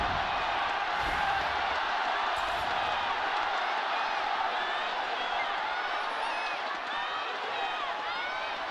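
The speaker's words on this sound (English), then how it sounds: "it is absolutely deafening when they all roar in unison in support of the teams today" A huge esports arena crowd in Nanjing roars together during a League of Legends grand final, a constant loud wall of cheering with faint whoops rising through it, and no talk over it.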